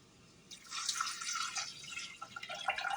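Homemade vegetable broth is poured into a pot, a soft, continuous liquid splash that starts after a brief quiet and runs on with gurgling variation until the end.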